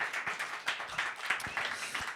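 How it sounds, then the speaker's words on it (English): Audience applause after a music and video talk, a faint patter of scattered hand claps from a small crowd, uneven and continuous for a couple of seconds. "round of applause for Jason Milton"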